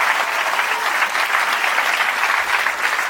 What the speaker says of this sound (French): donc on peut les applaudir, m'ont accueilli d'une façon formidable.